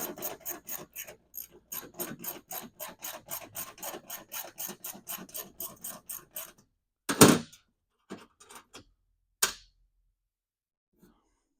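Rapid rhythmic ratcheting clicks from loosening the window support inside a 1969 Oldsmobile Cutlass door, a long run of close metallic ticks, then a few scattered knocks and scrapes.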